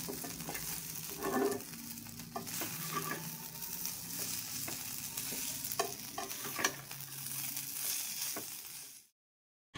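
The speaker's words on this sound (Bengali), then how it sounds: "সেই জন্য টমেটো সসটা দিয়ে ভালো মতো মিক্স করে নেব আবার।" Chicken noodles being stirred with tomato sauce in a pan, scraping and sizzling steadily at close range with no talk, then cutting off abruptly near the end.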